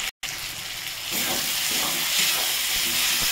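Prawns fry in a spice masala in a pan, a steady broad sizzle hissing close and continuous after a brief gap, with faint scraping and stirring clinks underneath and no talk.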